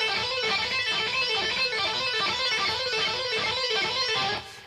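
An electric guitar plays a pull-off phrase, a rapid, looping run of descending notes repeated in an even rhythm, close and sustained for several seconds with no speech.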